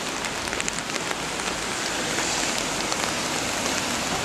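Steady rain falls hard onto surfaces outdoors, a dense, continuous hiss with scattered sharper drips and patters, close and even throughout with no voices.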